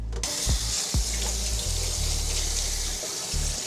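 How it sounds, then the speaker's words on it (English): Cold tap water runs steadily into a kitchen sink while strawberries are rinsed with baking soda, a continuous close splashing rush with a few brief knocks and shifts in flow. "take these over to the sink, and I am going to clean these with baking soda"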